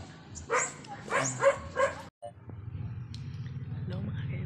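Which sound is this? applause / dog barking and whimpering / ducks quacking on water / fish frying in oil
dog barking and whimpering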